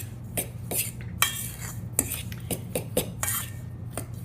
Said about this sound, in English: I am just gonna mix this together and make sure it's all mixed really well